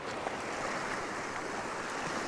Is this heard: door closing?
no